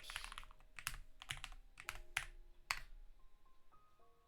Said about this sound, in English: Type it correctly.